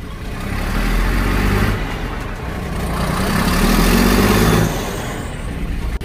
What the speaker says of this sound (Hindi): टिपर चालू हो चुका है,